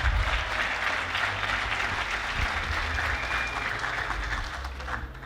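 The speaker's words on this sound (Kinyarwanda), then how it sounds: "Mwagiye aya mashyi" An audience at a formal gathering applauds, a dense, steady wash of clapping that holds through the whole moment and fades slightly at the end.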